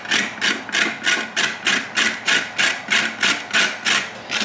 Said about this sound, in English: I'm gonna go ahead and grate them with my, I guess it's the cheese grater, garlic grater